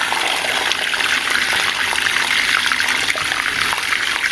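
Washed fabric being rinsed under running water, with a steady loud gush of water splashing close by throughout and no talking.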